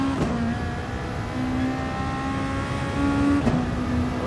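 A race car in Gran Turismo Sport accelerates down the straight at the Sardegna circuit, its engine note rising in pitch through the gears, droning loudly and steadily with brief shift breaks.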